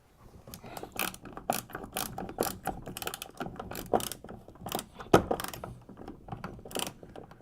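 A 3/8 inch wrench tightens nuts on an adjustable H-bar mount inside a Hobie Outback kayak hull, giving a steady run of quick ratcheting clicks and small metallic clunks close by.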